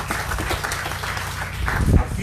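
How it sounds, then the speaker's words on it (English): An audience at a community gathering applauds a local councillor, a dense, noisy wash of clapping with voices speaking underneath. "I think he deserves a special round of applause"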